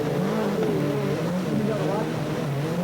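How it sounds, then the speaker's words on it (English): A 1988 Race of Champions rally car's turbocharged engine roars loud and continuous, its pitch wavering as it brakes and accelerates, with a turbo bark over a commentator's voice. "Bark from a turbo."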